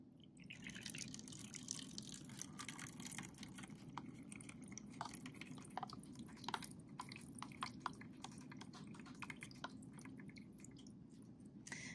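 Liquid poured through a funnel lined with filter paper into a cup, heard as a steady close trickle with scattered small drips and splashes throughout, quiet and alone.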